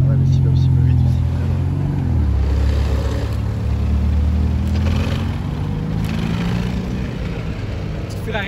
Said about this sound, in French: Petite Ferrari Roma, celle qui vient de partir.